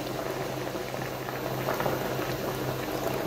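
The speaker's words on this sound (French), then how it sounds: "et je rajoute l'eau chaude" Hot water being poured into a pot of meat with cinnamon, a soft steady bubbling and gurgling of liquid at close range, fairly quiet and continuous.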